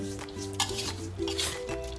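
Spicy wild boar is stir-fried in a pan, with a spatula repeatedly scraping and clinking against the metal over a steady sizzle in a short, busy burst of cooking noise.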